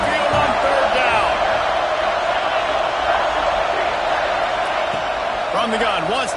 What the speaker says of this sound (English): The Tide crowd roaring noise down on the Saban field on 3rd down